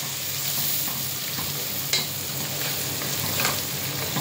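Bread frying in hot oil in a pan gives a steady, close sizzle with occasional stirring scrapes and light crackles, no voices over it.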